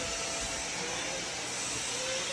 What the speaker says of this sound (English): Vacuuming it ain't gonna help.